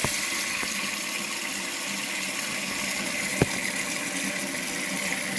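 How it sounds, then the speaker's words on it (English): Tap water runs steadily into a plugged kitchen sink, a constant close rushing hiss with no talking and one brief knock partway through. "I'm going to plug up the sink and just fill it up with some not too painfully cold water"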